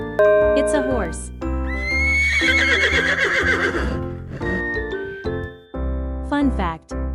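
Loud horse whinnies ring out over a cheerful, chiming music bed, with one long drawn-out neigh in the middle and brief snorts and calls before and after.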